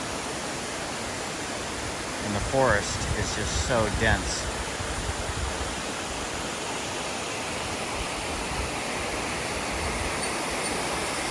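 Steady broadband rush of a waterfall in a dense forest at Kwatsi Bay, continuous and even throughout, with someone speaking briefly over it near the start.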